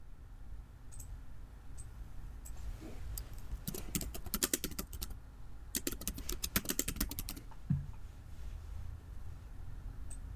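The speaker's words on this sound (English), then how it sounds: "And then you can type your text here." Bursts of typing on a computer keyboard during PowerPoint slide design, with irregular clusters of fast key clicks separated by pauses, close and fairly quiet.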